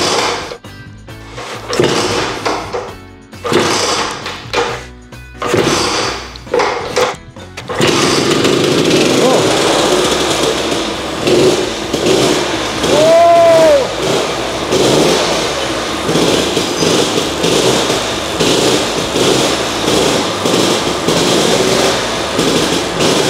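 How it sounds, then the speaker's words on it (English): Lambretta scooter being started for the first time, several short kick attempts and pauses before the engine catches and runs on at a steady, loud, buzzing idle with occasional revs. "This genuinely is the first time I've tried to start this scooter."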